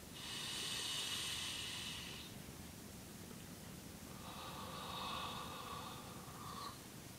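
Two long, soft exhales of breath into cold air, close to the listener, each a breathy hiss lasting about two seconds with a pause between, quiet and with no talking.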